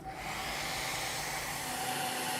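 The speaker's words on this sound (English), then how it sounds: "To make a supercritical fluid, we can heat this with a hairdryer," A hair dryer blows hot air onto an autoclave to make a supercritical fluid, a steady, loud whooshing hiss with a faint whine that continues throughout without pause.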